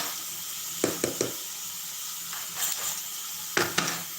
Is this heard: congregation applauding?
no